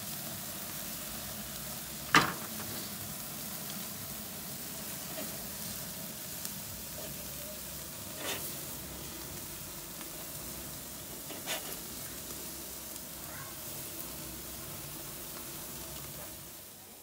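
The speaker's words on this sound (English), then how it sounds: "So now I've been cooking my burgers for about 10 minutes or so." Homemade hamburger patties sizzle steadily on a grill after about ten minutes of cooking, a constant hissing fry with a few sharp pops and crackles from the fatty meat.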